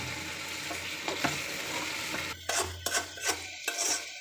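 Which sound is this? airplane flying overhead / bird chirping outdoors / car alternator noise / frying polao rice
frying polao rice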